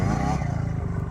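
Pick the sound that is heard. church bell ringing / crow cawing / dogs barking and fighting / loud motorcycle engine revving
loud motorcycle engine revving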